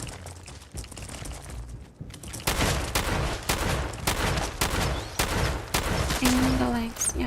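Gunfire in the video game Fallout 4, a steady, evenly spaced series of loud shots growing heavier after a short pause, with some talking in the background.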